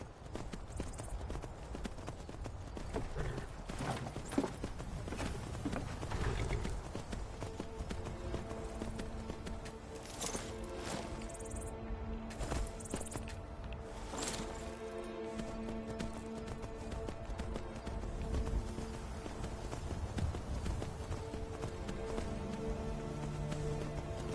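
Horse hooves clip-clop at a steady ride in the video game Skyrim, a continuous rhythmic trot that stays moderately quiet against a faint ambient background.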